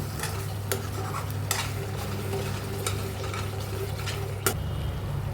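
Spoon stirring dum aloo masala in a pan just after salt goes in, a steady close scraping and mixing over a soft sizzle, with a few sharper clinks of metal against the pot.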